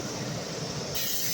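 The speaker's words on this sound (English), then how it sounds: "Watching train" A SEPTA Silverliner 5 commuter train, number 5732 bound for Glenside, rumbles steadily past Jenkintown station, its broad noise swelling louder partway through.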